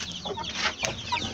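Hens with their chicks make soft, continuous clucking and peeping close by, a busy low chatter that runs steadily through the moment.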